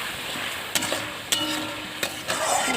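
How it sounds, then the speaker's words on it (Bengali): Salted spices sautéing in a pan, a steady soft sizzle broken by several sharp scrapes and knocks of a stirring spoon, alone with no voices. "কষে নেবো ভালো করে"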